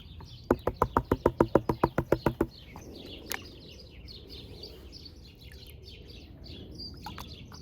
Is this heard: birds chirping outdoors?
yes